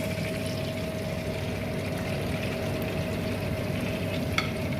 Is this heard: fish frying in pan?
yes